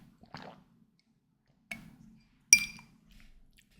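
A glass of water is picked up and drunk from in a quiet room: three short bursts of light glass clinks and soft gulping or sipping sounds, close and fairly faint.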